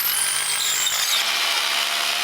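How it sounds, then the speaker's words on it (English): A hammer drill boring an anchor hole into a barn's concrete slab, a loud, continuous, gritty grinding roar close by that stays steady throughout with no talk. "First, you get a hammer drill and you drill your hole"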